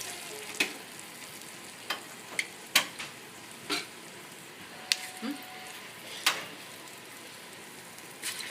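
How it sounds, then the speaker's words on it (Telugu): Moong dal pakoda batter fries in hot oil, a soft steady sizzle broken by a string of sharp clicks and taps from a utensil in the pan, fairly quiet and close. "బాగా దొడ్డు దొడ్డు వేసేసుకున్నా కానీ నూనెలో ఉడకాయి."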